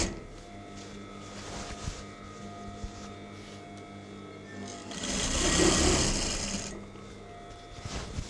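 A sewing machine stitches curtain heading tape in short runs of rapid mechanical chatter, with one longer, louder burst of stitching near the end.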